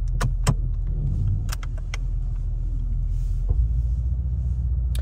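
A rear-wheel-drive V8 car engine idles with a deep, steady low rumble, punctuated by a few sharp clicks and taps near the start.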